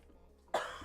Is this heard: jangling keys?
no